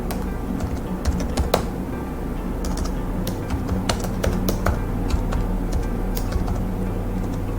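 Computer keyboard typed on in quick irregular bursts of crisp clicking keystrokes, close and clear over a low steady hum, with no talking.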